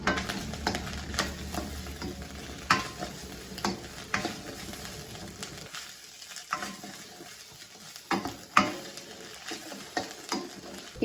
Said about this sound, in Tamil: போட்டு வதக்குவோம்.